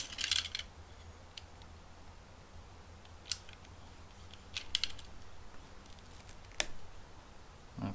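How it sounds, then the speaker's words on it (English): A motorcycle fuel hose cut on a Honda CL350 Scrambler gives a few faint, sharp snips and clicks, spread apart, over a quiet background hum. "So we'll cut the hose about right here."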